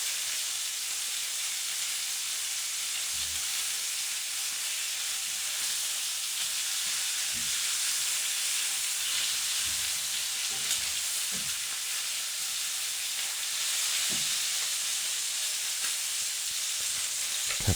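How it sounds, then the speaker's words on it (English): Chicken sizzles and fries in a pan over an open fire, a steady broadband crackle and hiss holding throughout, with occasional low knocks of stirring or utensils beneath the dense, close frying. "So we want to get that fried, not boiling from all the liquid coming out of the chicken"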